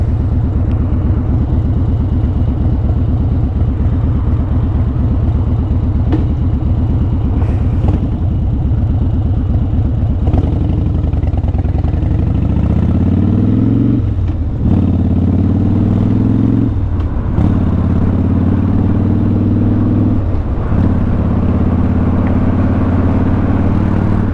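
A 2013 Harley-Davidson Dyna Wide Glide motorcycle rumbles steadily while being ridden, its loud engine drone continuous throughout, with the pitch shifting as the revs change partway through and a few light clunks from the road.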